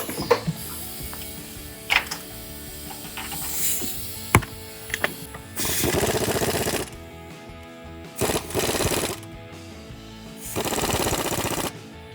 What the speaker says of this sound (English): Tighten up the top of the strut using a 15 deep socket